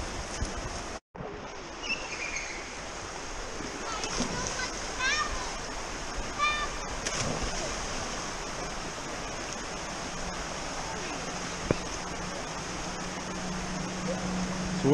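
A waterfall on the Laurel Fork of the Holly River in Holly River State Park, West Virginia, pours into a deep pool. It makes a steady, close rushing roar that continues unbroken, with faint voices and a few splashes.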